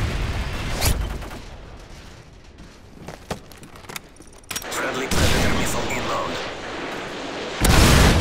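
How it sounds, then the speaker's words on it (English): Predator missile strikes explode in Call of Duty: Modern Warfare 3 Team Deathmatch on the Hardhat map, with three loud, close booming blasts spaced a few seconds apart over a low rumble of gunfire and game noise. "Friendly Predator missile inbound."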